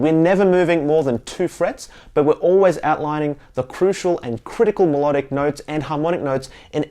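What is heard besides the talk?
No distinct noise like a dog, phone or traffic.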